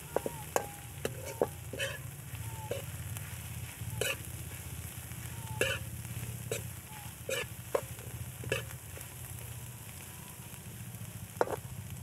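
A spoon scrapes and clicks in irregular strokes as banana heart with vinegar and spices is stirred in a cooking pan, over a soft continuous sizzle, close and fairly quiet.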